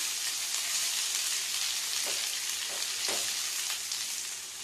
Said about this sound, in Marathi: कांदा आपण छानसं फ्राय करून घ्यायचा आहे.